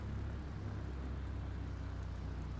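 Steady low engine drone with a broad rumbling hum, continuous and fairly loud throughout, no voices.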